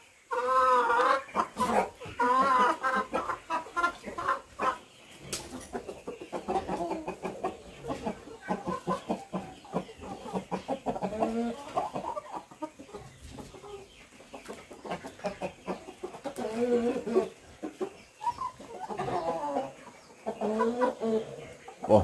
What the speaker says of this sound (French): Bon là ce sont des poulets Brahma purs que vous pouvez voir.